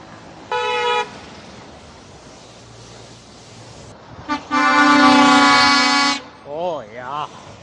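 Car horns honk in rush-hour New York City traffic: a short blast near the start, a long loud sustained honk midway, with brief voices and wavering tones at the end over a steady street rumble.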